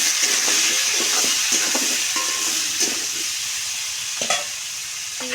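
Pumpkin curry with salt, turmeric and slit green chillies being stirred in a frying pan: a steady, close sizzle with a spatula scraping and tapping the pan at a regular pace, and no talking.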